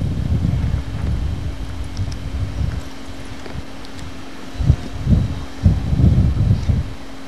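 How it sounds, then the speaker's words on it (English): Light outdoor wind rushing steadily across the microphone, with a low rumble and a few soft gusts and thumps toward the end. "The wind is blowing a little, but not much."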